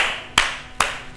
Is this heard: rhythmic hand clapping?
yes